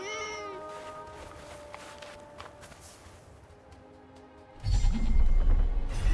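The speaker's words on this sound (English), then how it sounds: "Another cat." Cat in the video game Forspoken lets out a drawn-out, wavering meow at the start, followed by fainter mewing over quiet game ambience. A louder, rumbling rush of game sound takes over near the end.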